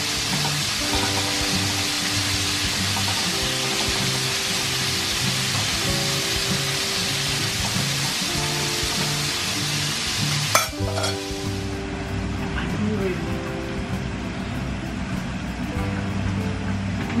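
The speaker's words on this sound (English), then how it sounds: "Here we are frying tonight." Constant loud sizzling of KFC-style chicken frying in oil, with a hum of background tones and a sharp clatter partway through.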